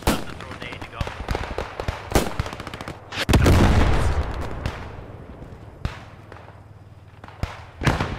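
Gunfire in the WWII shooter Squad 44: a few sharp bursts and single shots early on, then a loud sustained rattle of machine gun fire near the middle, fading, with more scattered shots toward the end and occasional voices.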